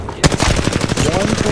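Rapid automatic gunfire in the battle royale game Apex Legends, a dense string of loud evenly spaced shots that starts abruptly and keeps firing throughout, with faint game tones underneath.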